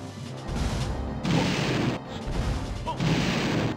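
Heavy booming explosions of mortar cannon bombs in the video game Banjo-Tooie, arriving in repeated loud bursts with rumbling crashes and brief gaps between them.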